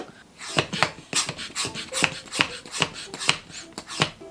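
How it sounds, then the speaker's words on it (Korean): Close, quiet air is pumped out of a vacuum food container lid by hand: about ten rhythmic, breathy hissing strokes, each a short rasping puff at a steady pace. "안에 있는 공기를 빼주면 이렇게 진공 상태가 되면서"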